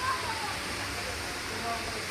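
Waterfall at a spring in a nature outing setting: a steady, close rush of falling water filling the whole clip, constant and fairly loud without breaks.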